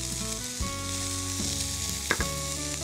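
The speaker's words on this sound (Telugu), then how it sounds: "ఇది ఒక్కసారి చక్కగా వేయించేసుకోవాలి" Diced carrot and beetroot pieces, along with peas, fry in a pan for a ragi beetroot carrot soup, giving a steady close sizzle with a few sharp clinks as they are stirred, with no talking.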